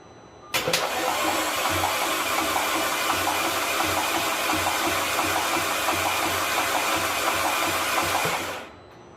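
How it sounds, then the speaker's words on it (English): An Audi 2.0T engine being prepped for first startup cranks over on the starter after a sharp click, a steady loud rhythmic whirring chug for about eight seconds that then stops without firing. "let's go give a good crank."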